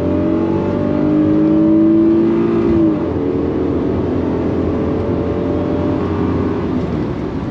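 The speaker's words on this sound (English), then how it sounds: "Listen to the sound of the engine." A 1991 Acura NSX engine revs hard under acceleration, its rising whine climbing steadily for about three seconds before dropping at a shift, then pulling again at a lower pitch, loud and close from inside the car.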